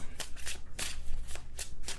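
Quick riffle shuffling of a tarot card deck, a series of sharp papery bursts in fast succession, close and fairly loud, with no voices.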